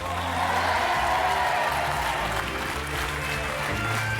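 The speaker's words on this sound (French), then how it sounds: "je vous demande d'applaudir Loana." A TV studio audience applauds Loana on a French game show, a sustained wash of clapping and crowd noise that stays steady and fairly loud for the whole stretch, with some hubbub of voices mixed in.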